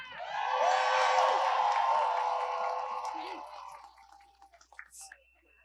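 A crowd at a No Kings protest rally in Chicago bursts into applause mixed with cheers and whoops, loud and sustained for several seconds before tapering off into scattered claps.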